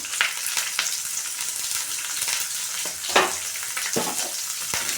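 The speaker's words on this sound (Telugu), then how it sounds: "ఇప్పుడు ఒకసారి దీన్ని కలుపుకున్నాము కలుపుకున్నాక వేగనిద్దామండి" Chopped carrots with curry leaves, salt and turmeric frying in a pan, a bright steady sizzle up close with a few sharper spoon scrapes and stirring swishes, no voices.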